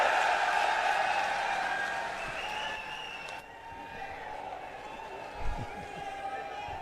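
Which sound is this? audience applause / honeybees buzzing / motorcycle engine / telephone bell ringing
audience applause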